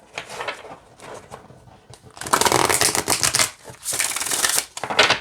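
Oracle cards are shuffled close by: soft riffling at first, then louder, rapid flapping bursts that repeat in several rounds.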